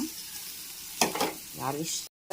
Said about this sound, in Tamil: கொஞ்சமாக எண்ணெய், ஆனியன், மிளகாய், அப்புறம் ஹோல் ஸ்பைசஸ் போட்டு இதெல்லாம் நல்லா ஃப்ரை பண்ண வச்சுருவோம்